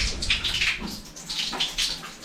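Water runs steadily from a newly installed washbasin tap in a house under construction, a soft continuous splashing hiss at close range with no talk over it.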